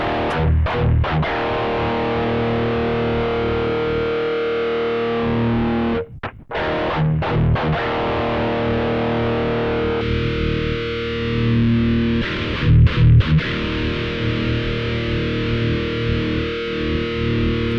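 Heavily distorted electric guitar through a Rocktron Chameleon 2000 rack preamp, chugging and sustaining chords, with brief breaks and a tonal shift partway through; loud, thick and saturated, no talking.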